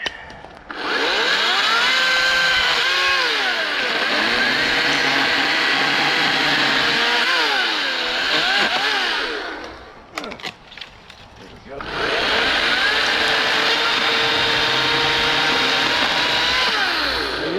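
A HART 14-inch 40-volt battery chainsaw cuts through a mix of dry and wet apple tree wood. Its loud, steady motor whine dips and bends under load, then drops out briefly before a second sustained cut.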